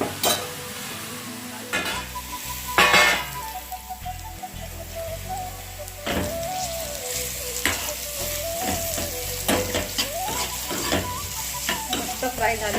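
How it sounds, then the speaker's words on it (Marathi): Mushrooms sizzle and fry in a pan over high heat, with steady stirring scrapes and clatter throughout, close and fairly loud with no talking. "जोरात गॅस करून हे चांगले परतून घेऊया."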